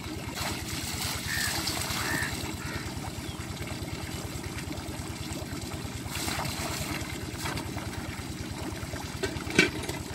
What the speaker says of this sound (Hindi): आज हमारी फसल को भी लगेगा बर्तनों वाला पानी